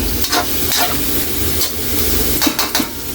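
Pork sautéed with lemongrass in a pan for dinuguan sa gata gives a steady frying sizzle, broken by several scraping stirs and light clanks of a utensil against the pan, close and fairly loud, with no talking.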